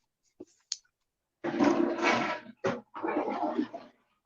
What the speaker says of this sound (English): How dare you flush your toilet on my stream?